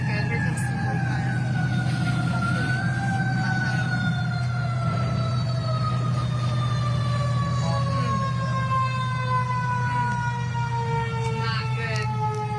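A fire engine siren wails close and loud at a burning courthouse, a long steadily falling tone over a heavy idling engine rumble, continuous for the whole stretch.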